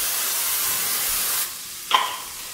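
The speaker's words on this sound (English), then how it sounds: "We can throw in a little bit more spray." Cooking spray hisses into a pan holding tempeh in a single steady burst lasting over a second, followed by a brief clink, close and fairly loud with no voices.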